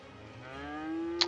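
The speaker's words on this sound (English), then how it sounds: "Oh, okay, there are the cows." Cattle mooing on a farm in the city-building game Cities: Skylines: a single long, rising low moo that swells steadily and is heard alone, with a brief sharp click near the end.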